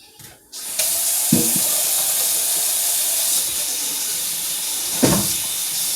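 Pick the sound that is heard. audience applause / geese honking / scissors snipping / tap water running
tap water running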